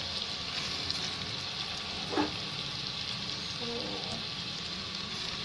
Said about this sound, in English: So now I'm going to add in rice